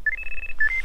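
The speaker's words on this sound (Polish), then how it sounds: "Sygnałki klasyk RX Plus, bardzo fajne," A Fox RX Plus carp fishing bite alarm sounds a quick sequence of short electronic beeps at shifting pitches, clear and close over faint low background noise.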